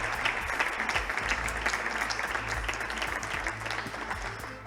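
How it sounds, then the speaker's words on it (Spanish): Audience applause at a live history broadcast event in Cartagena, sustained clapping from a crowd that stays full and continuous throughout, fading slightly at the close. "Un aplauso muy fuerte para todos ellos."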